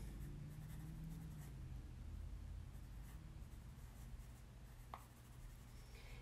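A pencil draws hearts on paper, making steady, close scratchy strokes that keep going with small pauses, and one sharper tap near the end, with no talk.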